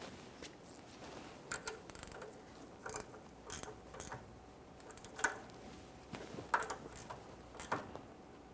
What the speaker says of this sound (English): For the inner tie rod end tool I'll have to use a 14mm to tighten each one of these mounting nuts up against that joint.